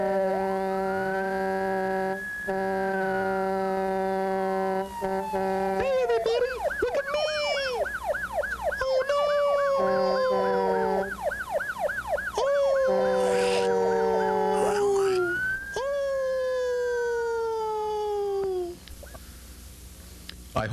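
A cartoon fire engine's siren wails loud and close, sweeping up and down in long rising and falling tones alongside a warbling yelp pattern, with horn-like blasts mixed in.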